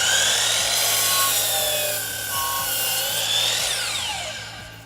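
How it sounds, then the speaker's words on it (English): A chop saw cuts through a FLEX column panel, a loud, steady whine of the blade that holds for several seconds before easing off at the end, with no talking. "So let's go to the chop saw and get this cut."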